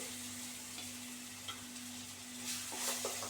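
Sliced onions frying in oil in a pan, a soft continuous sizzle with light stirring scrapes that grow brighter toward the end, under a faint steady hum.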